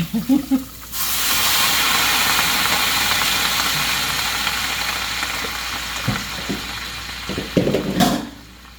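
Water spinach (kangkong) dropped into a hot pan gives a sudden loud hiss of steam and sizzle that holds steadily for several seconds, then fades under scattered clatter and a few knocks.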